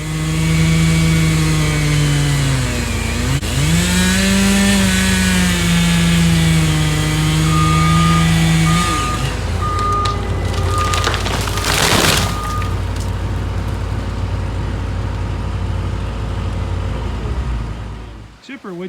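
A chainsaw cuts down pine trees, its engine droning loudly and close with the pitch rising and falling as it bites. Near the middle comes a brief crackling crash, then the saw idles on.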